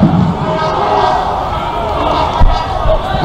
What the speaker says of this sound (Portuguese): É, torcida chiando, hein, aqui no Passo das Emas, não gostou mesmo da alteração.